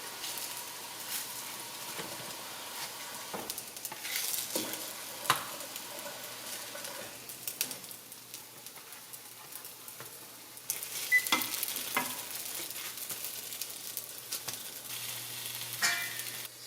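Pieces of vegan mock chicken browning in a pan give a steady, moderate sizzle and fry, with occasional stirring scrapes and clatters over about seventeen seconds and no talking.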